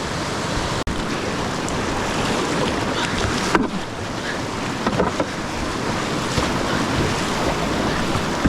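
Fast-moving whitewater on the Lower Yough river churns through a river-wide surfable wave hole, a loud, steady rushing roar with wind buffeting the microphone and a few sharp knocks, no voices.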